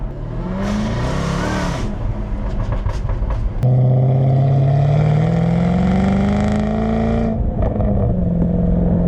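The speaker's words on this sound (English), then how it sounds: "that titanium exhaust, well, just listen to it on the overrun." A loud Jaguar F-Type SVR titanium exhaust roars and drones steadily, pitch shifting and rising, with crackly bursts on the overrun as the revs drop, close up and continuous.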